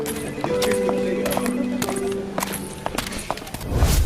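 Donkeys walk along, their hooves clopping in a quick, uneven rhythm close by, with a steady tonal background underneath.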